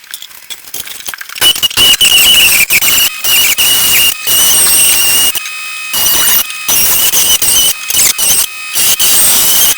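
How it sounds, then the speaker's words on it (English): A reciprocating body saw cuts through carpet on a car firewall, a loud, harsh buzzing with high-pitched squealing that starts and stops in repeated bursts, pausing briefly between cuts. "I'm gonna try the old body saw and see if that works"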